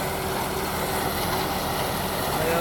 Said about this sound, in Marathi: मित्रांनो बघू शकता तुम्ही अशा प्रकारे आपला ट्रॅक्टर चालत आहे